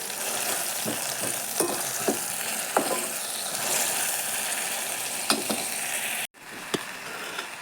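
Ginger-garlic and tomato paste sautéing in a pan, a steady frying sizzle with occasional stirring clinks and scrapes, close and fairly loud, with no talking.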